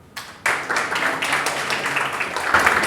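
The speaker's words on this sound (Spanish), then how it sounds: "Pedimos a todos un fuerte aplauso, por favor" An audience at a medical school debate on abortion applauds a speaker, with a burst of clapping that starts suddenly and holds steady at a moderate level in a hall.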